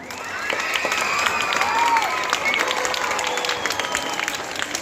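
Applause from a school prize-distribution crowd welcoming a winner, a sustained patter of many hands with faint cheering and background tones, steady for the whole stretch.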